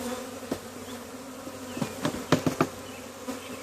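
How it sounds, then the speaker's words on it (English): Honey bees from a swarm hum in a dense, steady buzz while being installed in a hive, with a few sharp knocks and thumps of equipment close by. "A lot of bees here"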